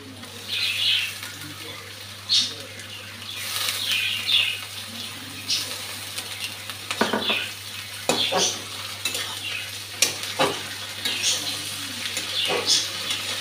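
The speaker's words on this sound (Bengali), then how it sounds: "এখন আদা রসুন পেস্টটা দিয়ে দিচ্ছি।" Ginger-garlic paste frying with onions for a green jackfruit curry, a soft sizzle broken by repeated scraping and clinking of a spatula stirring against the pan, close by, no talk.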